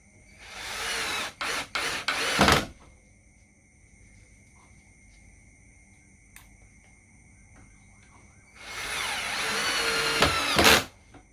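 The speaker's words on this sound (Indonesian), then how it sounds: "Dan langsung kita tes untuk penyekrupan. Media kayu kaso, sekrup ukuran 3, 4 dan 5 cm" A JLD 36V cordless drill drives 3 to 5 cm screws into wood without pre-drilling, giving two loud whirring bursts, one near the start and one near the end, separated by a quiet pause.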